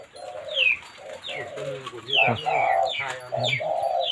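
Soft, repeated cooing calls from a spotted dove, several phrases in a row, fairly close, with faint background chirps and no talking.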